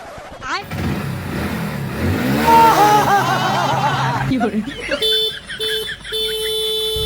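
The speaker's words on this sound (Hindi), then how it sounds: "रास्ता में हस तो गाड़ी की आवाज कैसे नहीं आते?" Vehicle engine revving on a road with a horn blaring in short repeated honks near the end, mixed with voices talking throughout.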